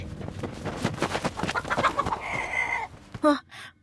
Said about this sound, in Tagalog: May naggugulo sa mga manok natin.